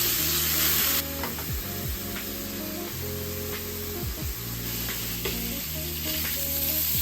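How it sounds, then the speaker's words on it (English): Vegetables sauté in a pan with a dense, hissing sizzle that carries on throughout, close up, with occasional stirring scrapes and no speech. "Few little vegetables in there. Gonna saute this for a little bit."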